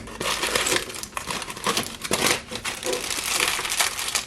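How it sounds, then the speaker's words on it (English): Crinkly plastic wrapper on a frozen burrito being peeled open by hand, a continuous close run of crackling and crumpling rustles over about four seconds with no talking. "So let's unwrap it."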